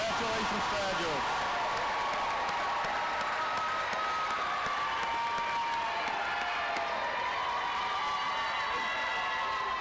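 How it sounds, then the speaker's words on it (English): Family and friends of graduates at the SUNY Broome 2022 commencement ceremony applaud and cheer loudly and steadily, a dense roar of clapping and whoops filling the hall throughout. "I think we have a contest here for whose family and friends are cheering the loudest."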